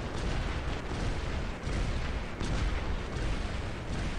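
Rumbling bomb blasts in a Fenrir battle game, heavy dense booms rolling one into another for several seconds, loud and close with no talking.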